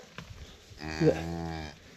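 A cow on a farm gives a single long, deep moo that swells and fades over about a second, close and clear above quiet outdoor background.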